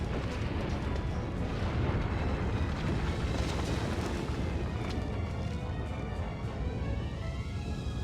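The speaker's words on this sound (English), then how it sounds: "Bomb! Get down!" A dense, roaring blast in Broken Sword 3 with a thick, sustained rumble and crackling debris that stays loud and steady throughout.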